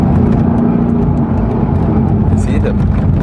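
A Mercedes-AMG GT S on the Genting mountain road hums steadily from inside the cabin, a continuous low engine drone with road noise throughout, while a voice talks over it.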